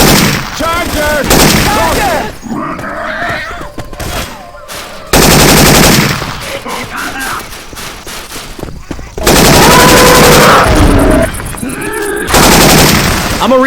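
Rapid bursts of gunfire from Syphon Filter-style weapon sound effects in Left 4 Dead 2, loud and repeated in several long volleys with brief gaps, mixed with game noise and voices talking.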